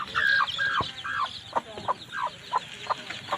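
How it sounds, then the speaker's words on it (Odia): Desi chickens cluck close by in a quick series of short, nasal calls, some drawn out and some clipped, over a soft outdoor background. "ଏଇଟା ଦେଖନ୍ତୁ ଗୋଟେ କୁକୁଡ଼ା"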